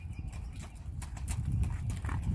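A red roan gelding walks along a farm path toward an obstacle course, its hooves clip-clopping in a steady, close rhythm over low background noise, with no talking.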